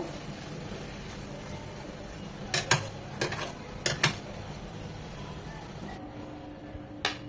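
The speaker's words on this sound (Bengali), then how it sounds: "এটা মিশিয়ে নিয়ে আমরা সার্ভিং ডিশে ভর্তাটা সার্ভ করে নেব" Pointed gourd mash (potol bharta) with shrimp and tomato being mixed in a pan off the heat, a few soft scrapes and clinks of a utensil against the pan over a quiet background.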